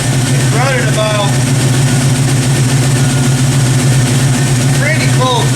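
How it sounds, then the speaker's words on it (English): An old truck engine idles steadily at around 900 RPM, a loud, continuous low rumble running the whole time, with a few faint squeaky sounds briefly on top. "So I'm going to raise up the idle."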